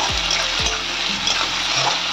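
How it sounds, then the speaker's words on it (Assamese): A fish head fries in a pan for a fish head curry, giving a steady close sizzle and crackle with a few low thumps underneath. "এতিয়া এইখিনি মই অলপ দেৰি ভাজি লওঁ"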